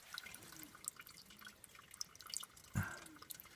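Faint trickling spring water flowing from a mountainside in Australian jungle, with soft drips and a brief louder splash, quiet and close, no talking.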